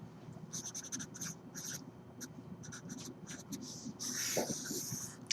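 Writing on a board makes a steady run of scratchy strokes with short bursts and pauses, close and fairly quiet, with a longer scraping stroke near the end.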